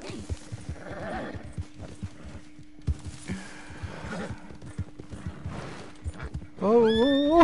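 A horse in the Red Dead Redemption video game clops along with irregular hoofbeats over a low hum, then lets out a loud, close whinny at the end.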